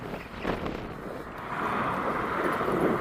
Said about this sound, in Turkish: Rüzgar mahvediyor ya.